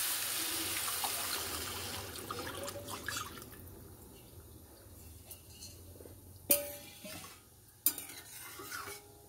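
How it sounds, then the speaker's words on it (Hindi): One litre of milk poured into a hot kadai for bottle gourd halwa: a steady rushing, hissing pour that gradually fades into a softer bubbling simmer, then two sharp metallic clinks near the end, with no voices. "अब इसमें ये 1 लीटर दूध है तो ये डाल देंगे।"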